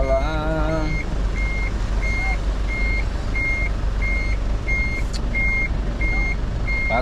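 A truck backing up, its reversing alarm giving a steady series of evenly spaced, high beeps over a loud, low engine rumble, heard nearby with no talk.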